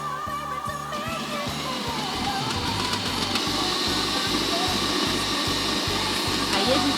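An electric stand mixer beats sugar cookie dough for Christmas cookies, a steady whirring motor hum with a rhythmic thumping pulse, fairly loud and continuous, with a voice talking faintly underneath.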